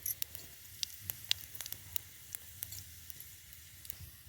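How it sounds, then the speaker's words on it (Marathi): Faint, steady sizzling of cumin seeds in hot oil, dotted with scattered sharp crackles and pops. "आता आपण हे जिरे टाकून घेऊ आता आता आपले जिरे चांगले तळसले"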